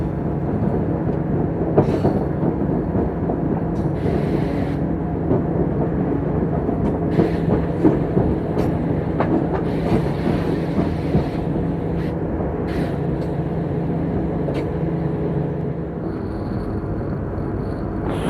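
A Pune-Phaltan DEMU passenger train runs along a rural line, its steady rumble and wheel clatter continuous and close, with occasional sharp rail clicks and no talk.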